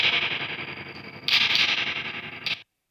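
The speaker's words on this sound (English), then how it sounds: "I love the reverb crash effect" A guitar tone through a White Whale Jr spring reverb pedal swells into a washy, distorted crash of reverb that surges, then cuts off abruptly to silence near the end.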